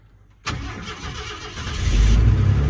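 A 1985 Ford F-150 with the 300 inline-six cold-starts after a brief quiet moment: a sharp crank catch, then the engine settles into a steady, strengthening idle rumble up close.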